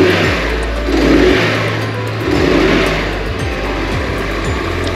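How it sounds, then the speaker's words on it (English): A Vitacci Clash 200 EFI gas scooter engine revs up loudly and close by, rising and falling through a couple of throttle blips over a steady idle drone. "Let's give it a little rev."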